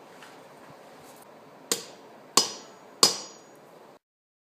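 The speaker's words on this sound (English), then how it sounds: "You can grab a hammer and just tap this in for me." A hammer at the forge taps a piece into place with three sharp, ringing metallic strikes, evenly spaced and close, against faint background noise.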